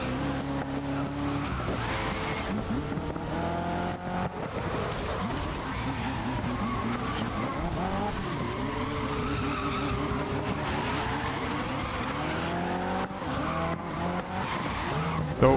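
A race car at Silverstone in the rain in GRID (2019), its engine droning and shifting pitch with tires skidding and squealing on the wet track, steady and loud throughout.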